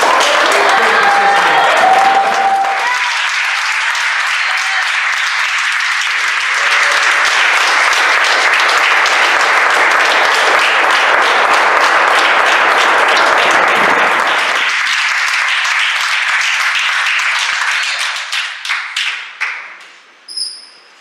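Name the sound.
church congregation applauding the Lord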